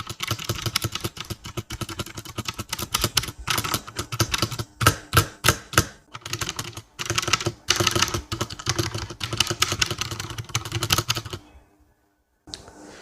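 Rapid typing on a computer keyboard, dense clacking keystrokes close up with a brief burst of slower, heavier key presses midway, ending abruptly in near silence.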